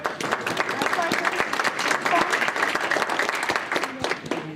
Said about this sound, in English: So I just want a round of applause for Sherry.